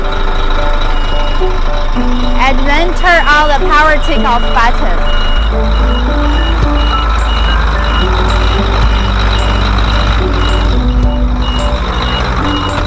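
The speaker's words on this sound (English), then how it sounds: "Okay, so first start the truck engine." Promotion truck with a large LED screen, engine starting and then running in a steady loud drone with a rising whine, someone talking over it throughout.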